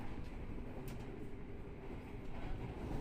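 KA Blambangan Express passenger train running on double-track rails between Cikampek and Cirebon, a steady low rumble and rolling wheel noise heard from on board, with faint clicks over the track.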